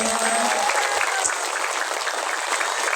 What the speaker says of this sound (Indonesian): Masya Allah, tepuk tangan